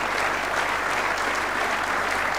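A crowd at the men's final of the 2004 World Pool Championship gives steady, dense applause for Mick Hill's win, with loud continuous clapping throughout and no talking over it.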